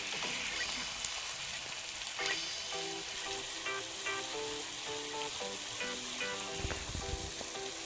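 Bun dosa batter with coriander sizzling in a hot pan while being stirred, a steady close frying hiss with occasional scraping under it, and no talking.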